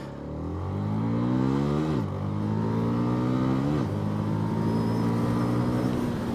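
A Cfmoto CLC 250 motorcycle engine revs and pulls through rising gears, with two clear shift dips as the pitch climbs again, heard steadily from close by.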